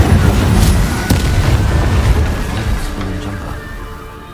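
An Incendio fire spell blast in the Hogwarts Legacy video game, with a loud booming burst followed by a roaring, crackling whoosh that slowly fades.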